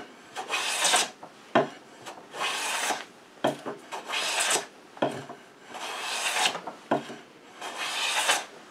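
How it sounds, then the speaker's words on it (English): A restored Stanley No. 5 hand plane pulls full-thickness wood shavings, producing a series of rasping, scraping strokes, about a dozen close and steady passes in an even rhythm, with no voices. "Pulling those full thickness shavings off."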